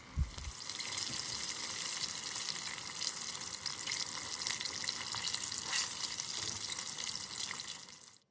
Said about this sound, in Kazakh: Мінеки барлығын осылайынан қуырып аламыз.